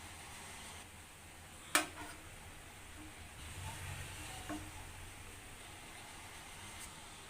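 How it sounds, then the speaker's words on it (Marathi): Low, steady bubbling and sizzle of a tangy, spicy tarli (sardine) fish curry coming to a boil, with a single sharp clink near the start and a faint tap later. "याला आता उकळी यायला लागली आहे"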